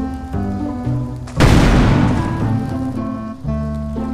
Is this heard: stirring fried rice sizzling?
no